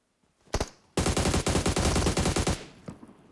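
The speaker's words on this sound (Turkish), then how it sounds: "oradan Maya abi MK14 sesi duydum ben" MK14 rifle fire in the video game PUBG Metro Royale: a short double shot, then a sustained rapid burst of loud, close gunshots lasting about a second and a half, followed by a faint trailing echo.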